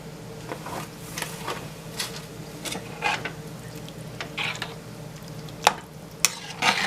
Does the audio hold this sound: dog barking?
no